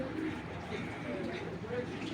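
Racing Giribaz pigeons coo steadily at close range, a low continuous murmur with other birds and a voice mixed in.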